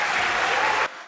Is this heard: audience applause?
yes